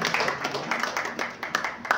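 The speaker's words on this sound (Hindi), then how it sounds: "जोरदार तालियां" Applause rings out at a prize-giving for a pigeon flying tournament, scattered hand claps pattering through the clip beneath a crowd's murmur.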